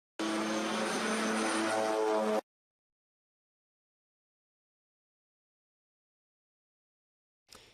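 A Thai police Twin Otter propeller plane flies low over the sea just before crashing. It makes a loud, steady, close engine drone for about two seconds, then cuts off abruptly into silence.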